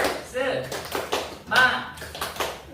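A class does a rhythmic spirit clap, with short bursts of hand claps and taps mixed with children's voices chanting and speaking along, close and moderately loud.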